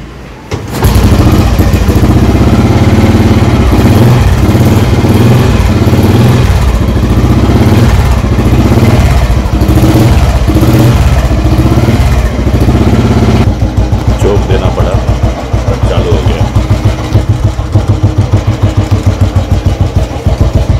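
An old Royal Enfield Bullet motorcycle, started after about a month unused, fires up and settles into a loud, close, steady thumping idle with a rhythmic beat, while someone talks over it.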